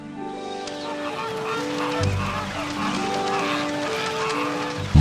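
Migratory geese honking in a flock, a dense overlapping chorus of calls that carries on steadily throughout, loud and fairly close, with no voices.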